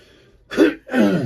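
A man clears his throat and coughs after choking on a cough drop, two harsh bursts close to the mic after a quiet moment.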